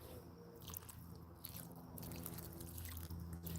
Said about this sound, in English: I'm just going to give it just a little bit more water.